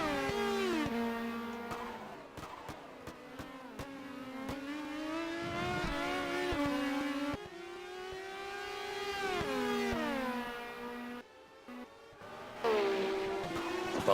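Le Mans prototype race cars in a racing video game scream past, engines revving and shifting through gears in long rising and falling whines, several cars overlapping, loud and continuous with a brief dip before another car roars in.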